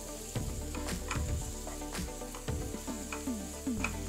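Ginger garlic paste, with turmeric, fries in a pan with a steady sizzle, while occasional stirring scrapes and knocks sound close by and faint music plays underneath.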